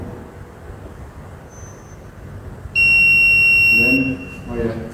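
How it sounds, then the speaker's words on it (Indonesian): A security system buzzer in an electrical panel room, set off when a camera detects a standing person, sounds as a loud, steady high-pitched electronic tone for just over a second amid room noise and a man's speech. "kalau saya standing, maka buzzer akan hidup"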